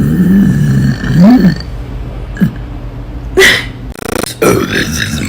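A woman forces out a series of uneven burps, some long and croaky and others short and sharp, close and fairly loud with brief gaps between them.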